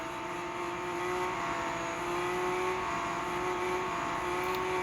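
Lamborghini Aventador SVJ engine in a racing video game, a steady loud drone with a sustained tonal hum and stable pitch throughout, close and continuous with no speech.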